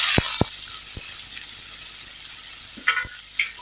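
Sliced onions hit hot oil with fennel seeds for an egg kurma, giving a soft steady sizzle broken by a few sharp clicks and clinks of stirring.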